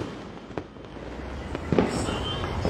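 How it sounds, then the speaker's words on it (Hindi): Diwali firecrackers bursting outdoors in Una during a festive evening, a couple of sharp distant pops over a steady crowd-like background hum, with a louder crackling burst near the middle. "अभी पटाखे फोड़ रहे हैं, खुशी मना रहे हैं।"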